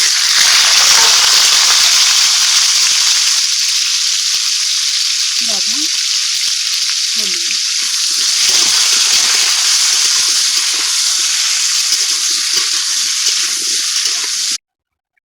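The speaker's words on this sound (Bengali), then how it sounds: "আলুগুলো ভেজে নেব।" Potatoes frying in mustard oil in a wok, a loud, steady, close sizzle that holds for about fourteen seconds with occasional spatters and stirring before stopping abruptly.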